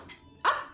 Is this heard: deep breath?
no